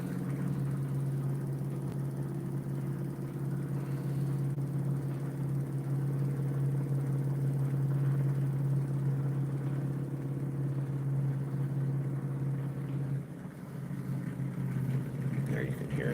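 A homemade pulse motor spins at about 1030 RPM, its steady close hum and whine droning on unchanged before a brief dip and recovery near the end, with faint talk in the background.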